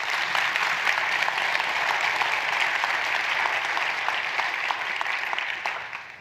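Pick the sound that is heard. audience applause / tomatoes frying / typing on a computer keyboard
audience applause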